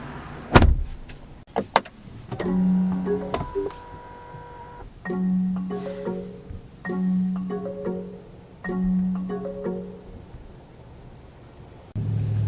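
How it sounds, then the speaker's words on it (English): Power-adjustable steering column motor in a 2023 Lincoln Aviator GT hybrid whirs in several short, steady electric runs, each about a second long, with soft clicks near the start. The sound is close and quiet, with no talking. "Steering wheel is power adjustable."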